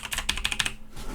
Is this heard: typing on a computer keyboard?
yes